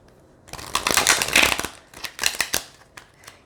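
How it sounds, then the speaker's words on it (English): A new glossy tarot deck gets shuffled by hand, a riffle of crisp card flutters building to a dense burst and then a few shorter, lighter shuffles, close and alone. "Let's see how they shuffle this way."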